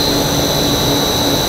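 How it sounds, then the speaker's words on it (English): A 4 kW air blower running on a high-speed blow film machine: a steady, loud, continuous roar with a constant high-pitched whine and no pauses, close to the listener. "4 kW air blower."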